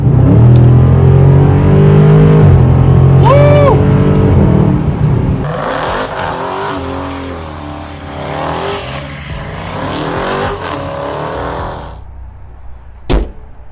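A Dodge Charger Scat Pack in sport mode accelerates hard on an open road, its loud engine roar climbing and shifting through gears in repeated rising sweeps, close and powerful, then easing off near the end, with no voices.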